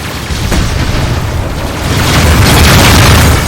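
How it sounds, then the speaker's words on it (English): An incoming missile explosion in the space combat game Rebel Galaxy Outlaw, a loud deep rumbling boom that swells and roars on without a break, heard alone. "Missile inbound."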